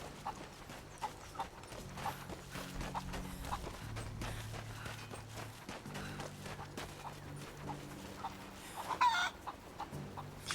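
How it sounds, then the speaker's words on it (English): Chickens cluck repeatedly in Rise of the Tomb Raider, in short bursts over a low game ambience with occasional footfalls and a sharper sound near the end. No one speaks. "Where are the other chickens?"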